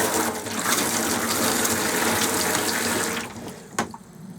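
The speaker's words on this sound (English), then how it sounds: "The taps to the sink, that's the hot tap." Hot water tap running into the sink of a 1999 Sterling Europa 500 EK touring caravan, a steady close gushing stream that cuts off near the end, followed by a brief knock.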